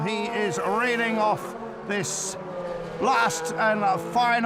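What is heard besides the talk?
No everyday noise stands out behind the speech.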